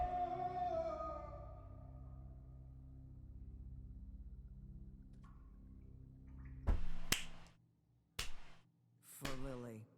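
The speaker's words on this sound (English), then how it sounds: "Czas na mój slow clap." A slow clap from a character in The Wolf Among Us, the episodic adventure game, comes as three sharp separate claps spaced about a second apart after a low droning musical passage.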